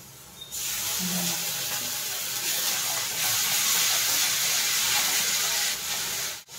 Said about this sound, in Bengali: আমার রসুন আদা ভাজা হয়ে গেছে